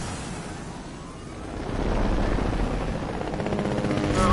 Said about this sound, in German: Heli, hier ist ein Chopper, hier ist ein Chopper.